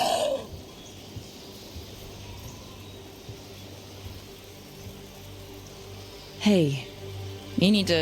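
Steady rain falls in Dragon Age: The Veilguard, a soft continuous patter that forms a constant wash, broken near the end by two brief, sharp chirping calls.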